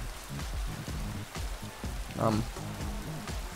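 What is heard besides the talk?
rain falling in MXGP3 video game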